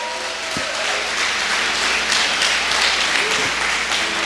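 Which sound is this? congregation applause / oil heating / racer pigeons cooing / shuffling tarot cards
congregation applause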